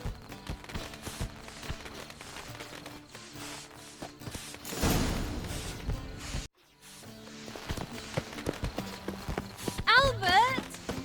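Horse hooves clop in an uneven rhythm under ongoing conversation in The Witcher 3: Wild Hunt, with a brief burst of noise midway and a short whinny near the end.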